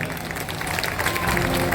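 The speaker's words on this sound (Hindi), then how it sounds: "एक दफा जोर के साथ तालियां बजाएं" Audience applause for performers at a Ramleela stage show on the Sita Swayamvar night at a temple in Sohna, a steady dense wash of clapping that holds and swells slightly across the moment.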